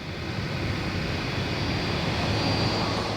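Air France Concorde taxiing along the taxiways at Kennedy airport, a steady broadband jet roar with low rumble holding evenly throughout, fairly distant and continuous with no voices.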